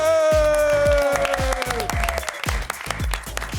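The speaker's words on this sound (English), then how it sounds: "the woke rabbit's clapping" A crowd claps steadily in dense, fast applause, with a sustained tonal sound fading over the first half.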